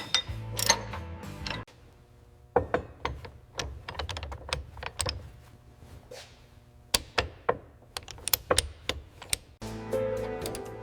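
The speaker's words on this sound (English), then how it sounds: "Pass me the wrench for the U-bolts" Wrench work tightening the U-bolts on a 1910 Thomas Flyer during restoration, sounding as a series of sharp metallic clicks and ratcheting ticks, close and fairly quiet, in uneven bursts with short pauses.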